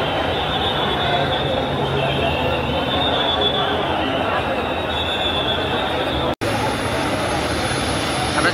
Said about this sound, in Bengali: সেনাবাহিনী হেলিকপ্টার চলে এসেছে।